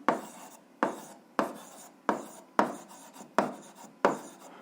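Pen or pencil writing an answer by hand on paper, short scratchy strokes repeating in a steady rhythm about every 0.7 seconds, close and fairly quiet with no talk.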